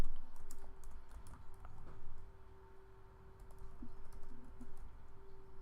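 Computer keyboard typing while writing a Python list example, a steady patter of soft keystrokes with a few louder taps over a constant low hum, fairly close and with no talking.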